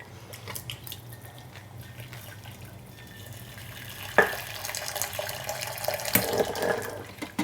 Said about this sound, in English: drain it, and then rinse it through with some boiled water